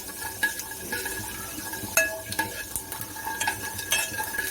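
Fennel and cumin seeds sizzle in hot oil in a pan while a spoon stirs them, a close, steady crackle broken by small scraping clinks, with no voices.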